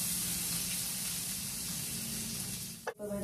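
Butter sizzles in a hot pan, making a loud, continuous, close crackling hiss. Near the end a brief clatter breaks in, and the sizzle then carries on more faintly.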